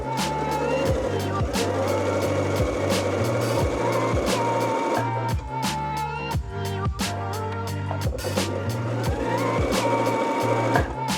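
An embroidery machine stitching a DIY key chain runs with a fast, steady mechanical chatter of needle strokes and rhythmic thumps, loud and close, with a brief lighter pause partway through.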